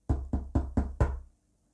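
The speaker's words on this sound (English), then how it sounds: "Mr. Happy knocked on the door." Five firm, evenly spaced knocks land on a small red door, close and resonant, the last ringing slightly longer before silence.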